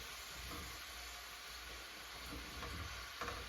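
Cubed onions sizzle in a soup pan, a steady quiet frying hiss with faint stirring clatter near the end.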